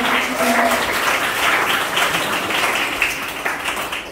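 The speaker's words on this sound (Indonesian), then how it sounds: "Berikan tepuk tangan yang meriah" A crowd claps together in a dense, continuous patter of applause at a school graduation ceremony, with faint voices mixed in underneath.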